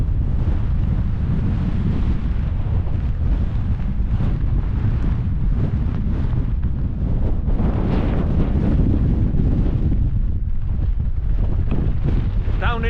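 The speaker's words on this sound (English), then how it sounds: "I just wish the wind would nick off" Strong wind buffets the microphone on an exposed hilltop overlooking a valley, a loud, steady low roar with gusting surges throughout and no pauses.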